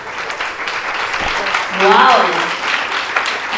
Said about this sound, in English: Ladies and gentlemen, a bigger round of applause